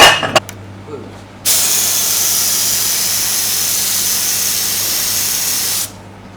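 Spray gun hissing out a mixture of cocoa butter and couverture chocolate, a steady loud spray lasting several seconds after a few short bursts, then cutting off.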